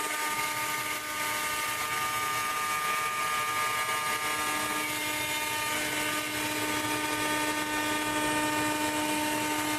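CNC router bit milling letters into a workpiece, a continuous high-pitched whine with steady tonal hum and grinding texture, constant and close, no voices.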